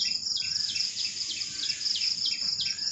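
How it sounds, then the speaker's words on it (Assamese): Birds calling outdoors in the early morning, a steady stream of high repeated chirps and tweets at moderate distance, continuous throughout with no talking. "চৰাই মাত শুনিছেনে বাৰু?"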